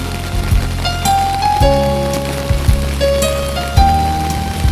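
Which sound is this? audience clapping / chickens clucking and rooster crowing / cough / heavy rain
heavy rain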